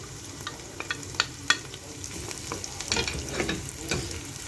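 Onions and peppers fry in a pan, their steady sizzle broken by the clatter and scrape of a utensil stirring them, close and without talk.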